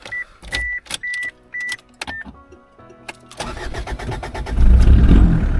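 A car engine starts after the battery is reinstalled in an outback vehicle: several chiming warning beeps, a short starter crank, then the engine catches and rumbles into a loud, steady idle close by.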